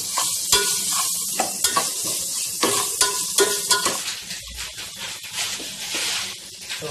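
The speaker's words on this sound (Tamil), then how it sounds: "சோம்பு போட்டிருக்குறோம், சிறுசீரகம் போட்டிருக்கோம், இது எல்லாம் போட்டு வதக்குறோம்" Fenugreek, ginger-garlic paste, fennel and cumin sautéing in a pan for Muslim-style nonbu kanji, with a steady close sizzle of frying and repeated scraping and stirring strokes, no voices.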